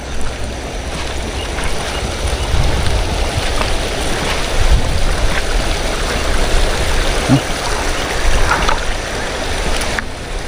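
Stream water flows steadily at a river in a remote rural spot where people are fishing with a net, a broad continuous rushing wash that stays fairly loud for the whole stretch, with a few faint voices mixed in.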